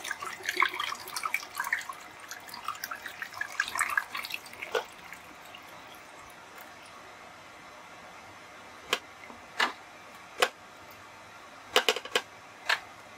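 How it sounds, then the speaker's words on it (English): Kodak HC-110 film developer poured back into its bottle: a trickling, splashing pour for the first few seconds, then quiet, followed by a handful of separate sharp drips or taps. "Okay, so pour it back into its bottle."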